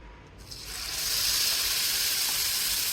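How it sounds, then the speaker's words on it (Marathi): Tomato puree hitting hot oil mixed with gram flour in a pan, breaking into a loud, steady hiss of sizzling that swells within the first second and holds close and continuous, with no voices. "तेलामध्ये आपले बेसन पीठ मिक्स झाल्यानंतर आता आपण यामध्ये घालणार आहोत आपली टोमॅटो प्युरी"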